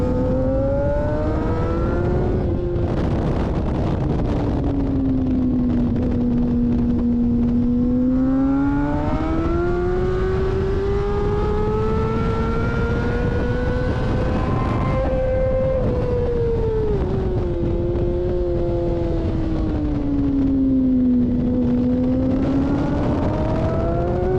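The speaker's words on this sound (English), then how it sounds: "I'm just sitting here riding my R6." A Yamaha R6 sport bike lapping a race track, its engine whine rising and falling through gear changes and corners in long sweeping pitch curves, loud and close throughout with no talking.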